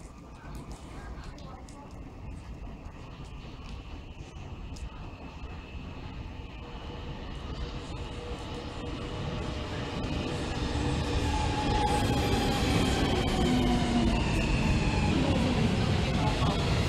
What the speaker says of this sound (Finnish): Nyt metro tulee.